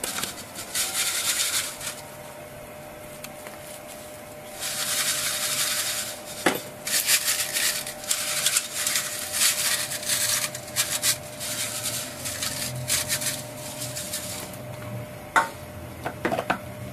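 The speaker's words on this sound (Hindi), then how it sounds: "ये तीनों चीजें आपने छाननी में डाल के छान लेनी है" Three dry ingredients shaken through a sieve make repeated bursts of gritty rasping and scraping, with pauses and a few sharp taps against the rim.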